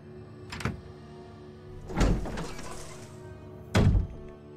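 Heavy door thuds in the video game Resident Evil HD Remake: three separate booming impacts spaced a second or two apart, the middle one followed by a longer rumbling creak, over a low ambient hum.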